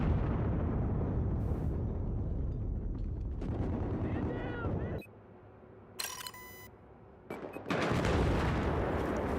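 Video game gunfire with loud, broad bursts and sharp cracks across most of the stretch. The shots break off in a near-silent gap in the middle, then resume in dense volleys.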